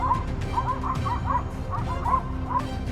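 A pack of hounds chasing a large wild boar gives repeated yelping barks and whimpering yips in quick irregular bursts, heard at moderate distance over a rumbling outdoor background.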